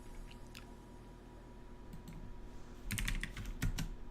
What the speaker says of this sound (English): I was typing too fast